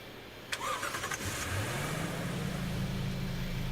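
Toyota Land Cruiser 200 in a driving video game, heard from outside: a short crank and start, then a steady low engine hum settling into idle, with no talk.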